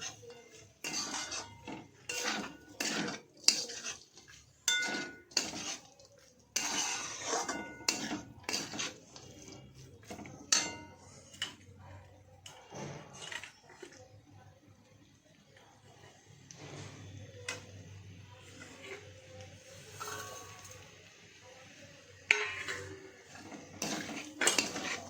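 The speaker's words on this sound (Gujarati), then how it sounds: "હવે બધી સામગ્રી આપણે મિક્સ કરી દેવાની એમાં।" A spoon clinks and scrapes repeatedly against a bowl as soaked sabudana and other khichdi ingredients are stirred together, irregular close clatter with brief pauses.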